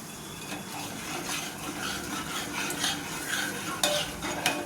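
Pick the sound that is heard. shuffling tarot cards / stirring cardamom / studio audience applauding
stirring cardamom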